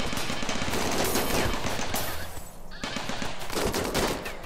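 Automated turrets in the video game Rimworld fire continuous rapid bursts of gunfire, dense and loud, with a brief lull midway before the shooting resumes.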